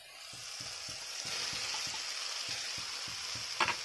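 Fried potato, cauliflower and peas are tipped into tomato masala in a pan, which sizzles steadily at moderate volume while a spoon stirs and scrapes in a regular rhythm.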